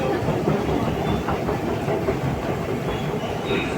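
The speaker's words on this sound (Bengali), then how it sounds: "আমরা মেট্রো স্টেশনের মেট্রো থেকে নেমে এখন উপরে উঠতেছি। এটা আন্ডারগ্রাউন্ডের মেট্রো।" An underground metro train at a station in China gives a loud, steady rumble with rolling clatter that fades slightly near the end, and no voices are heard.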